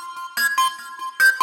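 The 05 lead synth loop from the Big Fish Audio Dirty South Bangers kit plays a bright, bouncy synth figure of short stabbed notes over a steady tone. It is loud and up front, with no talking.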